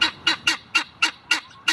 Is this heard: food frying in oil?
no